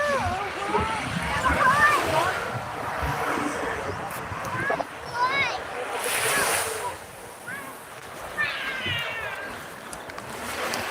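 Surf rolling onto Saeng Chan beach in Rayong on the eastern Thai coast, a steady close wash of waves with wind buffeting the microphone and someone talking over it throughout.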